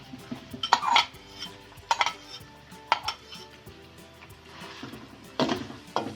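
Onions stirred into half a cup of hot cooking oil in a pan while making fish curry, with a metal spoon clanking against the pan in several sharp, close strikes spaced a second or so apart over a soft, faint background hiss.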